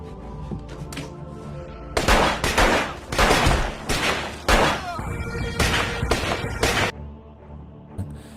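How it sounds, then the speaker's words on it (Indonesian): Gunshots fired in a dark room in a film scene, a rapid series of sharp loud bangs spaced about half a second apart, over a low rumbling music bed. "Kegelapan total menyelimuti ruangan selama beberapa detik berikutnya saat suara tembakan terdengar"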